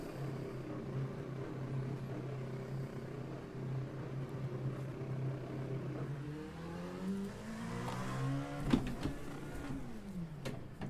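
LMP2 prototype race car engine at Monza in a racing video game, using an H-pattern gearbox, droning steadily then rising through revs with shifting harmonics and a sharp blip near the end, heard alone at moderate level.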